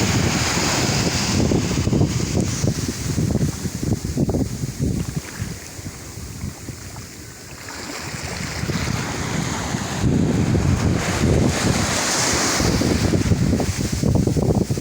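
Ocean waves at Lampuuk beach in Aceh Besar, a loud roaring wash of surf swelling and easing in long surges, mixed with gusty wind buffeting the microphone.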